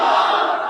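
Massed voices at a Sunni clerics' rally in Pakistan shout back a religious slogan, a short, loud, unbroken crowd roar that tapers slightly at the end.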